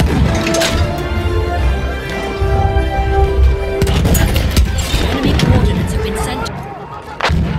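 Battlefield 1 artillery barrage on the Monte Grappa Rush map, with repeated heavy booms and gunfire crackling loud and continuous, blended with game music and a brief voice.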